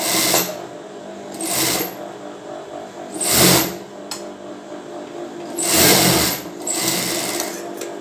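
A sewing machine stitches a bra piece in several short, separate bursts, each run starting and stopping abruptly with quiet gaps between, close and alone without talk.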